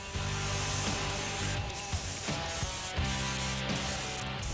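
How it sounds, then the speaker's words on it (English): Spray gun laying silver paint onto the body of a Monte Carlo in a paint booth, a steady continuous hiss with brief pauses between passes and faint mechanical clicks. "the car's in the booth getting the jam sprayed body color"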